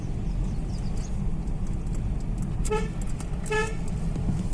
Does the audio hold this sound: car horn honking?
yes